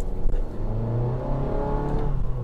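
A Honda Jazz 1.5 engine revs hard at full throttle, a loud strained drone climbing in pitch, heard up close with no talk.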